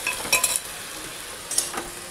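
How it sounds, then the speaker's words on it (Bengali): Onions frying in a pan while chicken with bottle gourd is cooked at home, giving a steady soft sizzle with a few brief spoon stirs and clinks near the start and later. "এদিকে এটাও ভাজা ভাজা হচ্ছে, একটু হালকা লাল লাল হবে পেঁয়াজটা"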